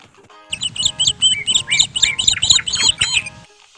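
Cartoon birds in a forest squawk and chirp in a rapid, busy chorus of bright, repeated calls, loud and close, filling the whole clip without any speech.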